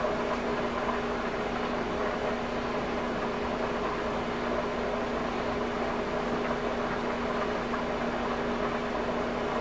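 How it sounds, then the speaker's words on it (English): A microwave oven hums steadily and evenly while heating marshmallows and butter, a constant mechanical drone with no voices over it. "So we're at about 20 seconds left in the microwave."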